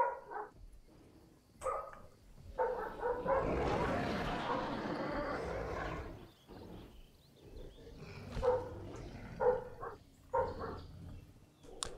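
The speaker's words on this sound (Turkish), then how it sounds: "İlk defa bizim köpekler bu kadar çıldırdı." Several dogs bark in short bursts and whimper, with a noisy stretch of scuffling and overlapping yelps in the middle; fairly close and agitated.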